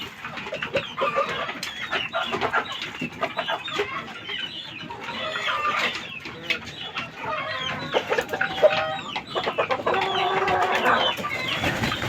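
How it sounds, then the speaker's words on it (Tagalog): Several Peruvian gamefowl roosters cluck and squawk steadily while being fed, close and busy throughout with overlapping calls. "pinakain na natin guys yung mga Peruvian to eh yan silang tatlo mga kapatid"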